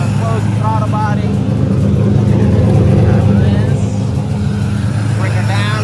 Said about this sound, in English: the car is sounding good. It's a little low on the RPMs, but it's running.